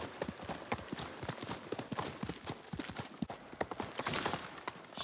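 Horse hooves galloping in the video game Ghost of Tsushima, a rapid, steady clip-clop rhythm throughout, close and clear, with faint background game ambience.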